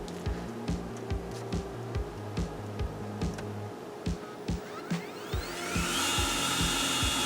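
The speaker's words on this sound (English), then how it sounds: "I'm drying it now, so I'm setting up the the leaf blower again" A leaf blower used to dry a painting runs as a steady, rough broadband roar with a rising whine toward the end, growing louder as it spins up, close by with no talking.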